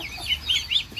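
Chickens clucking close by in a farmyard of Muscovy ducks, a quick run of short nasal clucks over a low rumble of background noise.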